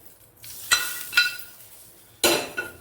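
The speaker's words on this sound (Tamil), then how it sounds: "இந்த 4 ஸ்பூனையும் ஊற்றிட்டு அப்படியே கிண்டுவோம்" A spoon stirs onions around a pan of very hot oil while making Korean-style Maggi noodles, giving a few sharp scraping and clinking strokes over a faint sizzle in an otherwise quiet kitchen.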